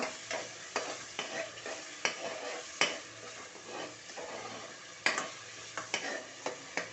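Four sliced onions fry and get stirred in a pan, with a steady close sizzle broken by repeated sharp scraping stirs.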